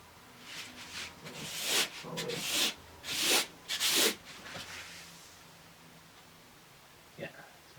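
Guitar frets are sanded in several rough back-and-forth bursts of abrasive rubbing, close and moderately loud, then the scraping stops; a voice talks quietly in the background.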